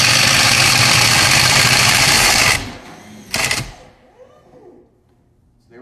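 A RIDGID FlexShaft drain cleaning machine whirs loudly as its chain spins inside a drain pipe, then cuts out, gives one brief burst and falls quiet.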